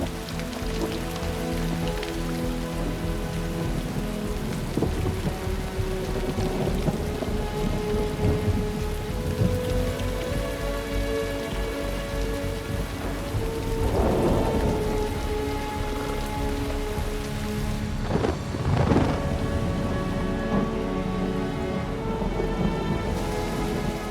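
Heavy rain pours steadily across the Laikipia savanna, a dense continuous hiss of drops, while deep thunder rumbles and rolls through in the middle and again near the end.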